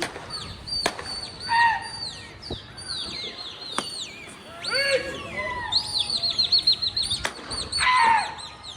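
Pigeons flap their wings in quick rustling bursts on a rooftop during a pigeon-flying contest, with sharp claps and chirping calls, a rapid run of wingbeats building toward the end.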